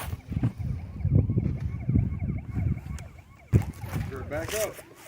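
A toy fire truck siren keeps up a thin, steady wail at moderate level beneath children's talk and rumbling play noise.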